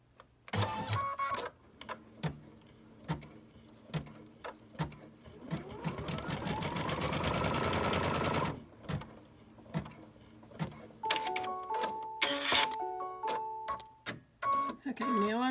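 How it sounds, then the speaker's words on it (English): A computerized embroidery machine stitches an appliqué placement line, a loud, close, steady mechanical whir with rapid needle chatter that builds in the middle, framed by short start-stop bursts and electronic beeps. "the first thing it's going to stitch out is a placement line for your stem"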